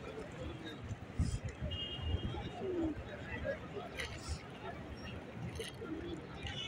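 Pigeons, including racing pigeons, coo softly in a loft among a mix of breeds, low rolling calls repeating under a faint background babble of voices.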